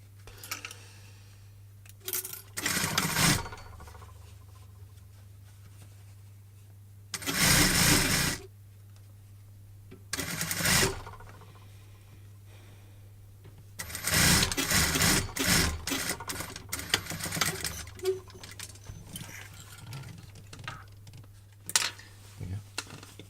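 A sewing machine stitches a notched collar in several bursts of rapid whirring, some short and some longer, with quiet handling sounds between them and a steady low hum underneath.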